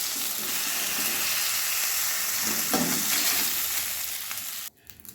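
Shol fish pieces fry in hot oil, a loud, dense, steady sizzle close up that holds for several seconds with a brief stir partway through, then drops away suddenly near the end leaving a few faint clicks.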